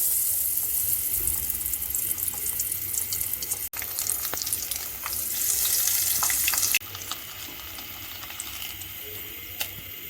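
Mutton chops fry in hot oil with a dense, loud, continuous sizzle that steps down in level partway through and keeps going steadily, no voices over it.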